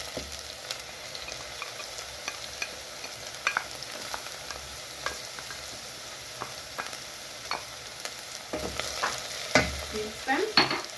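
Garlic frying in a pan for a green banana matoke stew, a soft continuous sizzle with scattered utensil clicks and scrapes that grow busier and louder near the end.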